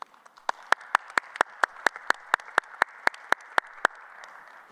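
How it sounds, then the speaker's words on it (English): Steady single claps from a few people in a conference plenary hall, loud and evenly spaced in a quick rhythm, over a low room murmur. "Please, a round of applause."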